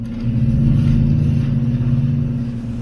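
A Toyota Tundra TRD Pro pickup truck pulls away with a low engine rumble that swells as it accelerates, then settles into a steady cabin drone while driving, without any talk.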